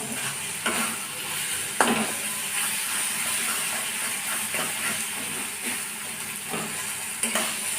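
Spice masala fries in a pan ahead of the chicken, a continuous soft sizzle and hiss close by, broken by scraping stirs of a spatula every second or so.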